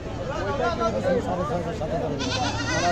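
A goat bleats at a busy Bangladeshi village livestock market, wavering cries heard close over a constant din of people talking in the background.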